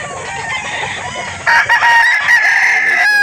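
A rooster crows loudly and close at a chicken market in Calauan, Laguna, one drawn-out call rising in the second half over a low murmur of other birds.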